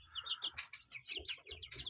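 Chicks and hens on a small farm cluck and cheep in short, close, overlapping bursts, with quick peeps between lower clucks.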